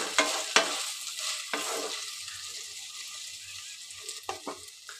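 Potato and brinjal frying with salt, a soft sizzle under a few sharp scraping stirs near the start and end, fading quieter in between, with no voices.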